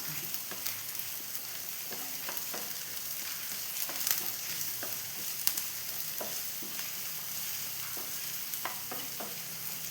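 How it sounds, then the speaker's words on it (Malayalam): Crushed ginger and garlic fry with softened onions in a pan for Kerala-style kadala curry, giving a steady, quiet sizzle broken by scraping stirs and occasional louder pops. "ഇതിലേക്ക് നമ്മളെ ഇഞ്ചി വെളുത്തുള്ളി ചതച്ചത് ഇട്ട് കൊടുക്കാം"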